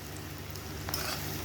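Onion stalks frying in hot oil with cumin and chopped onion in a pan, a steady close sizzle with a brief stirring scrape partway through.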